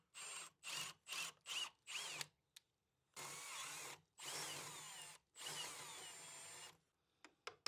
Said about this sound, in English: I'm using an auger bit to remove most of the material to form the mortise.